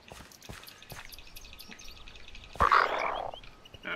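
Toad croaking in the Minecraft Harry Potter video game: faint, sparse calls over a quiet ambient bed, then a louder, sustained burst of croaking near the end.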